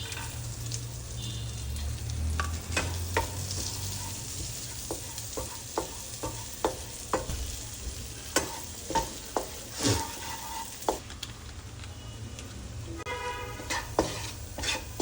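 Marinated chicken frying in butter with garlic sizzles steadily in the pan, with repeated sharp scraping and stirring clicks from a utensil scattered throughout, close and fairly quiet.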